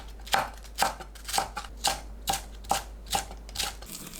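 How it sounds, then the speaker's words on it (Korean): A knife slices green onions in a home kitchen, about nine crisp, evenly spaced chops close by, with no talking. "파를 썰어줍니다."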